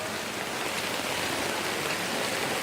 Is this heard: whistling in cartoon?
no